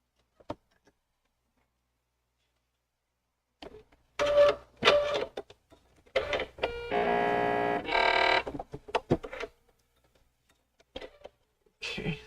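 A Bernina 830 LE sewing machine stitches in short mechanical bursts with rapid clatter, starting after several seconds of silence and stopping and starting again, close and clear with no talking.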